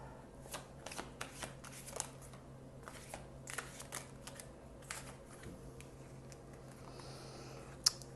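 Tarot cards being shuffled close up, a quiet run of soft riffling flicks and slaps in irregular bursts over a faint background hum.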